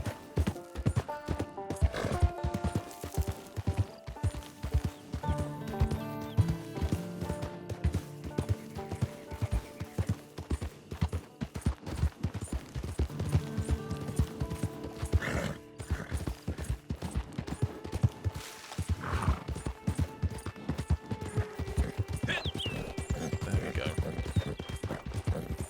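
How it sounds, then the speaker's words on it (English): Hooves clip-clop in a fast, dense rhythm as a horse gallops across terrain in the video game Red Dead Online, with occasional whinnies and game music underneath, steady throughout. "My horse is struggling."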